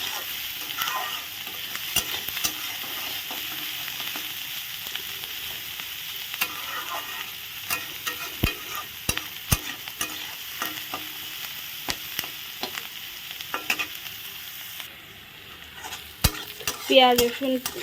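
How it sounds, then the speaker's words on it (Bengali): Chopped onions, garlic and green chillies sizzle steadily in a hot pan while a utensil stirs them, bringing repeated scraping clicks and taps against the pan at close range, with no voices. "এখন ভালো করে নেড়ে চেড়ে নেব।"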